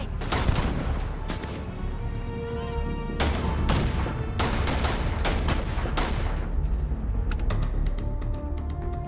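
Rapid gunfire in a Starfield sci-fi firefight, with dense bursts of automatic shots and sharp single reports overlapping continuously, loud and close, alongside game effects.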